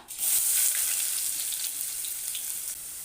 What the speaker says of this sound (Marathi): जिरा आणि मोहरी चांगली तडतडलेली आहे त्यामध्ये घालायचा आहे कांदा